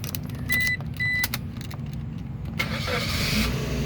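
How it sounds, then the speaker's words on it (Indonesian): A 2008 Suzuki SX4 X-Over 1.5 automatic starts up: a brief crank and catch, then an engine settling into a steady idle close by, after a few clicks and chimes. "sekarang kita coba nyalakan mobil"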